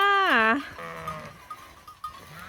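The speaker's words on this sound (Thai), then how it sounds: "มาต้อนแกะมาต้อนแกะย้ายแกะกันจ้า" Sheep being herded and moved across to the far side of a road, with one loud close bleat at the start, softer bleats after it, and someone talking faintly under them.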